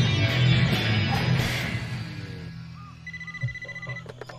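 A telephone rings in the tofu shop in a dubbed Initial D animated film scene. Short repeating ring bursts come in once a rushing engine-like noise fades, and there is no talking.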